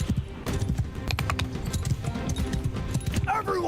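Horse hooves pound in a Mount & Blade II: Bannerlord battle, a close, steady galloping clip-clop that runs throughout, with a brief whinny near the end.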